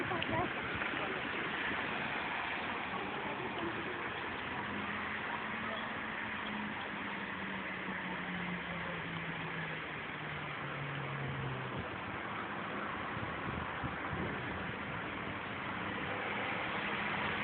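Cars idling and moving slowly at a motorway exit near the port of Messina, a muffled continuous traffic hum at moderate distance with a faint passing engine tone.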